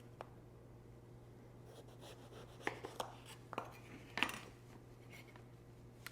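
Knife cutting an eggplant into thin eighth-inch slices on a board, a few quiet, separate cutting taps in a hushed kitchen with a steady low hum underneath.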